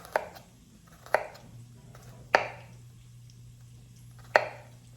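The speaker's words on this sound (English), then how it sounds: "And I'm just gonna chop that up, little pieces." Ingredients for coq au vin chopped into small pieces with a knife on a board, four sharp, spaced thuds with a slow uneven rhythm, close and clear with no talk.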